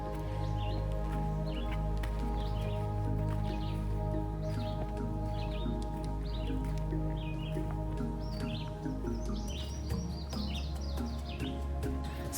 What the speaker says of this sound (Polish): bardzo wiele ptaków, które przepięknie śpiewają.